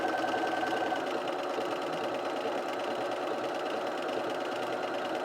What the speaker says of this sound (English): I'm going to just kind of gently pull this as we stitch around that circle there